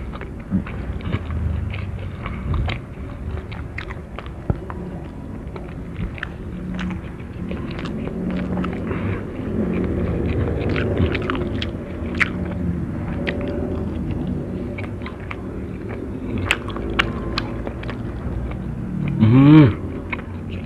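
Someone eating chicken nuggets mixed with shrimp paste sambal close to the microphone, with soft, irregular bites and chewing, small clicks and mouth sounds, and a brief louder rustle near the end.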